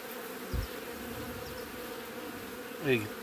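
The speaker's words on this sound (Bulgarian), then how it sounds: "Част от пчелите бягат." Honeybees from a small swarm pushing into another colony's hive, a steady faint buzzing hum with two brief louder thumps or handling knocks near the start and end.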